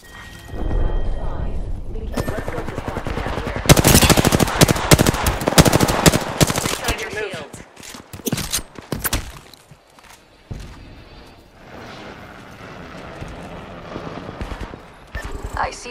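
Rapid automatic gunfire from Apex Legends bursts loud and dense for several seconds, with shorter volleys and mechanical clatter before and after, then tapers to quieter game ambience.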